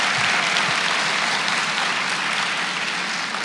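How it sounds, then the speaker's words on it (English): Audience applause at a moderated conversation on climate, a dense, steady clatter of many hands clapping continuously and loudly from start to finish, with no voices over it. "that deserves applause."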